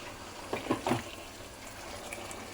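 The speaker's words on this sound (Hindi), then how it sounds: "मिक्सी में पानी डाली तो वही पानी में चिकन में डाल रही हूँ।" Water from a mixer jar poured into chicken cooking in a pan for Konkani-style chicken and cashew gravy, a few short close splashes and trickles that then fade into quiet room hiss.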